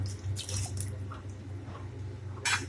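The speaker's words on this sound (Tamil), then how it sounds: "இப்போ அந்த ஸ்டாக் வாட்டரையும் ஊற்றிடலாம்" Mutton stock water is poured into a biryani pot, giving soft splashing and dripping sounds with a brief louder splash near the end, heard close against a low background hum.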